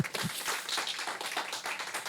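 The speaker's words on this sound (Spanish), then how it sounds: "denle un aplauso fuerte al Señor, fuerte al Rey" A church congregation claps loudly in praise during a sermon, producing steady, dense applause that lasts the whole moment.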